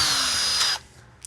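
A power drill with a bolt chucked in whirs loudly at high speed for under a second, then stops abruptly, leaving quiet with a brief faint click.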